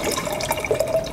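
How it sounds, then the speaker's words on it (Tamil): Water poured into a shaker bottle while making homemade nannari syrup, a short, fairly loud splashing and gurgling pour with small bubbling accents, no talk over it. "அதில் வந்து ஃபஸ்ட்டு தண்ணி போட்டுக்கோங்க."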